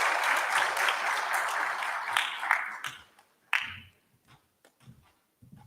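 An audience at a TVET college opening event applauds the CEO, a dense round of clapping that thins into a few scattered claps and fades to near silence with occasional isolated claps.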